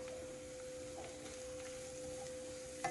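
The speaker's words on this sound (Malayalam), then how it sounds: "നമ്മുടെ ബട്ടർ മെൽട്ടായിട്ടുണ്ട്. അതിലേക്ക് മഷ്റൂംസ് ഇടാണ്." Mushrooms sautéing in melted butter in a pan make a faint, steady low sizzle with light stirring ticks, and a small clatter comes near the end.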